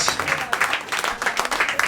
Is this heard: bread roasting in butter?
no